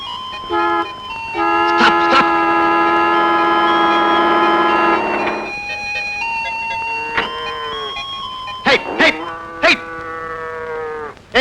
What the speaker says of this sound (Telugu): కారు అడ్డంగా ఉన్న ఆవులను గెదలను పక్క తోలరా